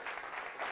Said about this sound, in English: Give her a nice round of applause, Ashley.